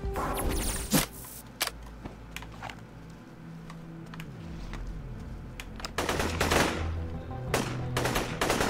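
Shotgun blasts in the video game Dex: a run of sharp, loud gunfire bursts, several clustered near the end, over a low game soundscape with no talk.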